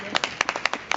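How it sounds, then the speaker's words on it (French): Scattered hand claps from a small group in a brief, uneven burst, close and fairly sharp, for a man from Lisbon outdoors. "Allez, on l'applaudit"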